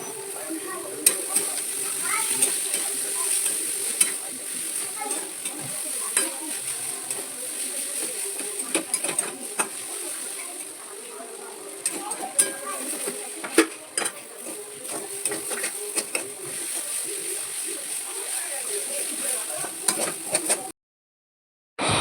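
Boiled chowmein is stirred and tossed with fried vegetables in a pan, giving a long run of scraping and clinking utensil strokes over a soft background hiss, close and steady, ending in a short silence.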